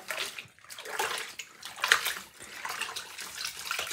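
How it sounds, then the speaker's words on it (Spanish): Curly doll hair is rinsed in a basin of soapy water, producing a continuous close sloshing and splashing that swells and eases in waves, with no talking. "vamos a darle una enjuagadita en esta misma agüita"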